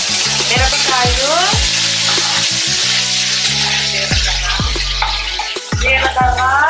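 Onions and chillies sizzle and fry loudly in a pan, a constant close crackle broken by repeated scraping stirs and metallic clinks of a spoon against the pan.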